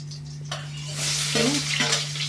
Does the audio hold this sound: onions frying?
yes